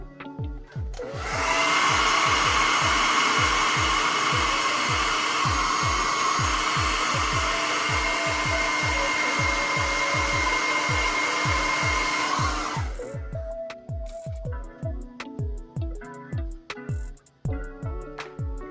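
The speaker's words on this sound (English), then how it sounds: "Sorry about the printer noise in the background" A Bambu P1P 3D printer running at normal speed blows a loud, steady fan whoosh over a rhythmic low thumping; the whoosh cuts off near the end, leaving scattered clicks and motor chirps.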